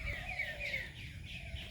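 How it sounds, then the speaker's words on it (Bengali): Birds calling in a village along a dirt road lined with trees, a few high chirping phrases over a steady low background, fairly faint. "কত পাখির কোলাহল, ডাকাডাকি কিচিরমিচির"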